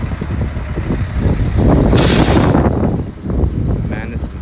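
Concrete truck arriving for a garage roof pour at a beach house build in Barbados, a loud diesel engine rumble rising to a brief hiss of air brakes, with wind noise and voices nearby.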